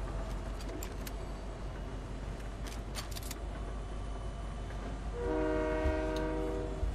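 A train rolls through the train station stage of a video game, a steady rumble with a sustained horn-like tone rising near the end.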